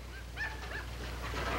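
A dog gives brief whimpering yips and bow-wow sounds at moderate distance, a few short calls over a steady low hum, with no talk.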